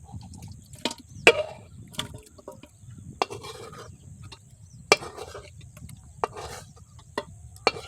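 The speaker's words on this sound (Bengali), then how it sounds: "এবার মাংসগুলো দিয়ে দিচ্ছি।" Cooked, spiced chicken tipped into a pan of fried potatoes for chicken biryani and stirred, giving scattered clanks of a spoon against the metal pan, soft scraping and wet shuffling at close range, with no talk.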